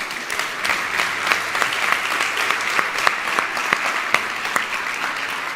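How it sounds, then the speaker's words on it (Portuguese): Applause from a studio or live-show audience, a dense, steady patter of many hands clapping that runs the whole stretch at moderate loudness, with no talking over it. "Uma salva de palmas para quem está vivo,"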